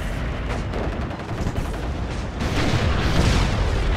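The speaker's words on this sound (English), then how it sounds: "There comes artillery." Artillery fire in the Warno real-time strategy game, a dense, continuous rumble of booms and distant blasts that swells louder partway through, with no talking.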